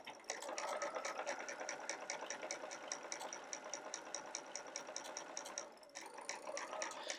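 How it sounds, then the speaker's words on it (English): A sewing machine stitches a circle wallet in a steady, rapid run of needle strokes, close and continuous, with one brief pause near the end before the stitching resumes. "I'm going to sew right on the line, take a few stitches forward, back stitch a little bit."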